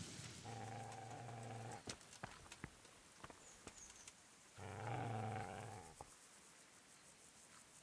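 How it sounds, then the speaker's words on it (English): A dog in Kingdom Come: Deliverance gives two low, rumbling growls, one early and one later, with light clicks and footstep-like taps in the quiet between them. "Wonder if that dog's gonna attack me."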